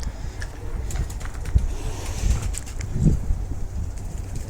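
Soft low cooing of Basra pigeons near a backyard loft, steady and moderately close, mixed with rustling and faint outdoor background noise, no talking.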